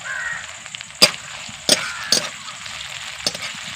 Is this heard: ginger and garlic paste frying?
yes